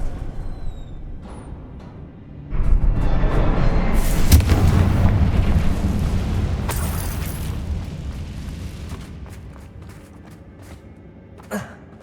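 A Confringo fire spell explodes in the video game Hogwarts Legacy, a loud booming blast followed by a rumbling roar and crackling debris that slowly fades, with a short sharp pop near the end.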